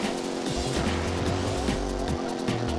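A kart engine in Mario Kart DS roars in a loud rising and falling buzz while tires squeal in short repeated skids, close and continuous over game music.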